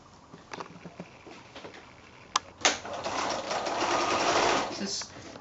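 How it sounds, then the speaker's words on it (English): Steady whirring of a sewing machine stitching a quilt block in a continuous run, preceded by a few small clicks and taps. "So again, back to the sewing machine."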